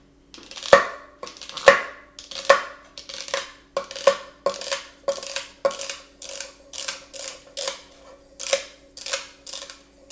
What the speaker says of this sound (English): We're going to move on just a stick of celery and see how that works.